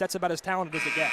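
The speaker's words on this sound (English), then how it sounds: "That sound you hear is the final buzzer." A final buzzer sounds at a girls' basketball game between Nazareth and Peoria, a steady sustained electronic tone that starts partway through and plays under a commentator's speech.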